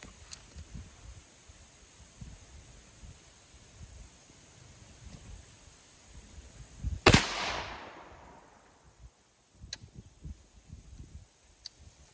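A single heavy 10mm load fires from an 8-inch barrel AR pistol into a ballistic gel block outdoors, one sharp loud crack with a fading tail standing alone against quiet background.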